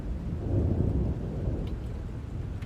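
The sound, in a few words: thunder and heavy rain in audio drama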